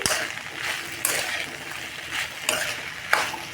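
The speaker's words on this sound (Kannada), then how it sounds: "ಅದು ಚೆನ್ನಾಗಿ ಫ್ರೈ ಮಾಡೋಣ ಇದು ಚೆನ್ನಾಗಿ ಫ್ರೈ ಆಗಬೇಕು" Okra frying in oil in a pan, a steady close sizzle with periodic louder bursts roughly every second as the pieces are stirred; no talking.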